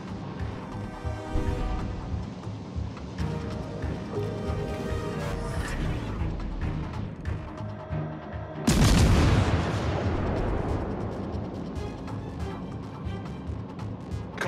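Naval artillery fire in World of Warships: Legends, with repeated heavy booms and gunfire over a continuous engine and music bed, one especially loud blast midway, then a long decaying rumble.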